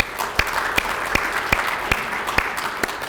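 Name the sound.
audience applause welcoming a speaker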